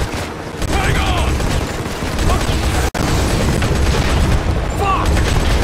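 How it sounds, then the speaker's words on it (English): Dense gunfire and explosions in the mobile shooter game Modern Combat 5 during a firefight against a helicopter, a loud continuous barrage with bursts and booms that runs almost unbroken apart from one sharp cut midway, with shouting voices mixed in. "Keep on firing, goddammit!"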